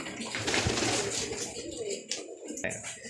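Pigeons kept for sale coo continuously at close range, low throaty calls overlapping with a rustling, busy background of wings and movement.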